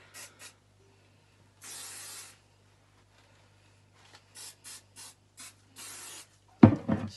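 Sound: hairspray spraying on hair

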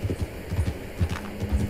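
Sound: horse hooves running in video game Red Dead Redemption 2

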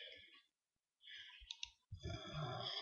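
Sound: computer mouse right-click

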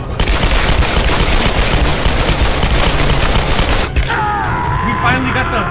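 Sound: gunfire in the Tomb Raider video game

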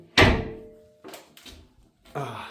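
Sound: heavy shelter door being closed

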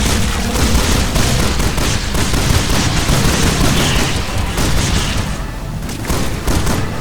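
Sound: gunfire and explosions in the video game Resident Evil 6

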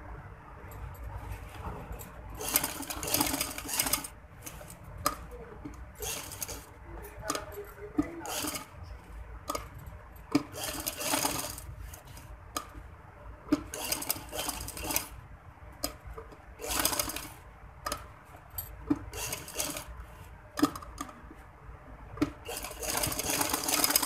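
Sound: sewing machine stitching a frock

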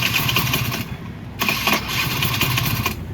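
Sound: motorcycle engine starting

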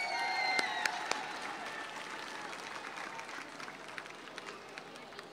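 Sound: audience applause for Santa

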